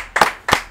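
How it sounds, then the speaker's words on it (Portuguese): Two quick, sharp handclaps close by, a brief burst of applause with no crowd behind it. "Aplauso para o Bay International."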